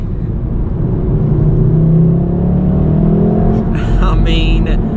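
A manual Volkswagen Golf R MK7 engine revs and pulls under acceleration, a rising drone heard from inside the car, with a person talking over it.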